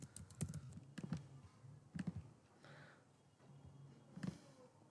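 Fingers type text on a computer keyboard in short, quiet bursts of clicking keystrokes, separated by brief pauses; the sound is close but faint.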